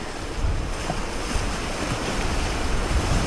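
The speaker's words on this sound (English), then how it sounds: "The raging Potomac River." Swollen Potomac River rushing after a night and morning of rain, heard from a riverside boardwalk as a steady, loud broadband roar with wind buffeting the microphone throughout.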